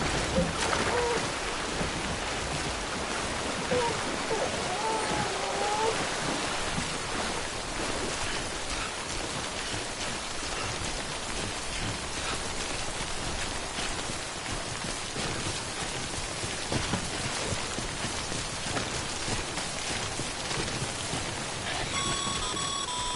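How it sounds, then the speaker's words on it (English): Timefall rain from the video game Death Stranding: a steady, dense hiss of rainfall that holds at an even level throughout, with no voices over it. "Don't stay out in the rain any longer than you have to."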